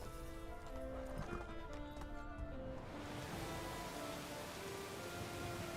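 Horse hooves clip-clop at a steady trot in the video game Medieval Dynasty, loud and continuous over soft outdoor ambience.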